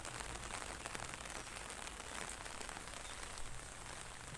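Outdoor rain falls as a steady, even wash of broadband patter, continuous and fairly close throughout, with no voices over it.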